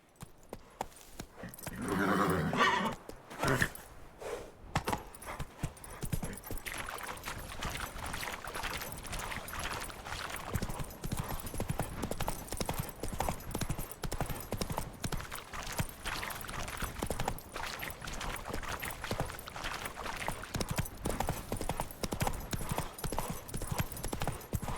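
Roach, a horse in The Witcher 3, clip-clops in a steady trot that runs through the whole stretch, with a brief neigh near the start and a busy, dense background.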